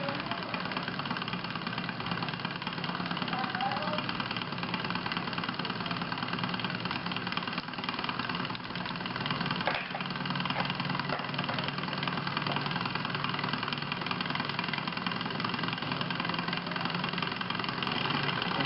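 A small Stirling engine runs steadily, its rapid mechanical chatter continuous and fairly faint throughout, with revs picking up as it warms.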